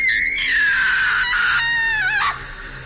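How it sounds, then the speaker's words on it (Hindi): A woman in a Hindi audio drama lets out a loud, sustained scream of pain that wavers and breaks before cutting off, heard up close with no speech over it. "दर्द के मारे बंजारन चीख पड़ी"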